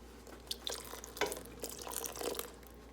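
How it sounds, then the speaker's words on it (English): Vinegar is poured into heated goat's milk for farmer's cheese, soft trickling and splashing with a few faint clinks, quiet and close against a low hum. "I'm going to add a 1/4 cup of vinegar."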